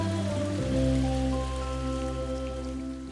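Rain sound effect in a children's alphabet song, a steady patter running continuously beneath sustained musical tones.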